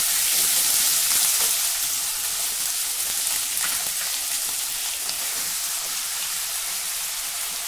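Potato slices frying in hot oil alongside fried peanuts and green chili, a steady dense sizzle close up that runs unbroken throughout with no talking.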